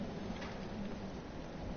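Thunder Jump skill effect in a video game, a dense, rumbling thunderstorm-like roar with rain-like hiss, steady and loud throughout, with no voices.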